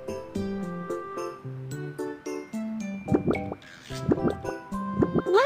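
Watering in a BabyBus children's video game, bright cartoon drips and plops with bubbly pouring sounds, laid over a plinking game melody in a lively rhythm.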